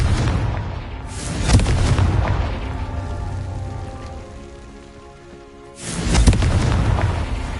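In Hogwarts Legacy, a Confringo blast spell goes off in two heavy, booming explosions a few seconds apart. A rumbling, crackling roar fills the gap between them, with no one speaking.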